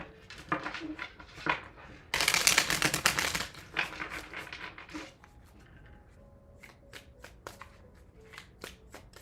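Tarot cards shuffled by hand in a quick crisp riffle, a loud burst of flapping cards followed by scattered taps and slaps of the deck settling, close and alone.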